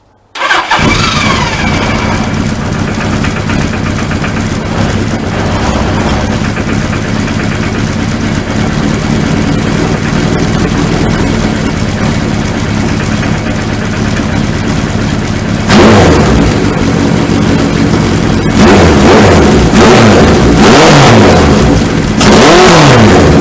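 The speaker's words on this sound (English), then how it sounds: "So the only thing left to do is to start it up and hear if it sounds as good as it looks." A Suzuki GS1000 motorcycle fitted with a 4-into-1 exhaust cranks and fires up, settling into a steady loud idle before a series of sharp throttle blips and revs near the end, with no talk.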